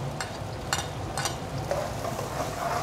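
Onion with nigella seeds and white cumin frying in oil in a pan on a raised flame: a steady close sizzle throughout, broken by a few brief crackling spurts and faint stirring scrapes, with no talk.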